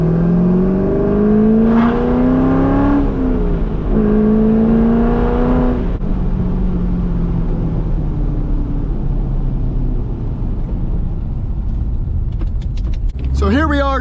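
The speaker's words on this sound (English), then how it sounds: "So here we are driving the C5 Corvette." Chevrolet C5 Corvette cruising on a road toward Talladega Raceway, a steady engine drone and road roar inside the cabin with rising revs early on, while a person talks over it; a brief jangle near the end.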